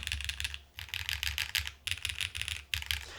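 Typing on a Space 80 mechanical keyboard with firmer springs, quick close clacking keystrokes in bursts separated by short pauses, with no voice.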